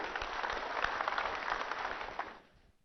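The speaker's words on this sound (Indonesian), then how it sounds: "Tepuk tangan untuk para kandidat kita." Audience applause for the candidates at a public debate for regency head in Toba Samosir, Indonesia, a sustained, fairly faint crowd clapping that fades out over the last half second.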